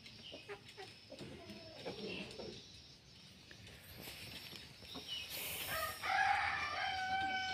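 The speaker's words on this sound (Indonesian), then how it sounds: "Ayam kate tema si Rambo namanya." A pet bantam rooster crows near the end, a rising harmonic call over background chatter and faint household noise; people talk in the background earlier.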